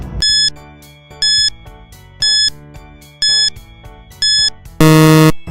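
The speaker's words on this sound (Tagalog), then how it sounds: "Timer starts now." A quiz countdown timer pulses in five evenly spaced electronic beeps about a second apart over a soft musical bed, ending with a louder, longer buzzer tone.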